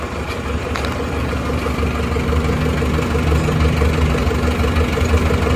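An Isuzu Panther engine with a recurring fault runs with a steady rumble that swells slightly as it revs, a mid-pitched drone close by with a faint knocking undertone.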